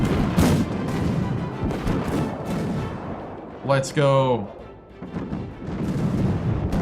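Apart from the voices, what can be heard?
explosions and artillery fire in the video game Victoria 3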